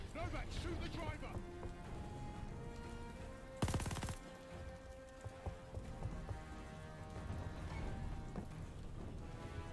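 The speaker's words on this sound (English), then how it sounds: "Novak, shoot the driver." Gunfire in the Call of Duty Vanguard video game, rapid bursts of shots amid rattling game noise and a sharp loud burst midway, with voices talking over it.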